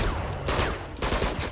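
Gunfire in Uncharted 2 with the character blind-firing from cover: dense, loud bursts of shots crowd the whole clip, swelling in two heavy volleys with no talk over them.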